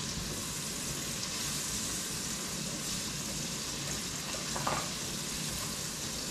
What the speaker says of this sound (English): we cook this for about 2 minutes until it's golden brown